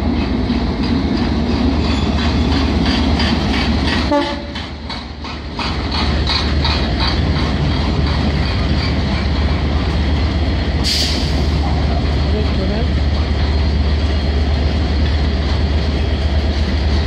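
A train passing on the line through Bridgend, Swansea or Cardiff rolls past with a loud rumble and rhythmic clickety-clack of wheels on the rails, the noise holding steady close by, with a brief dip partway through.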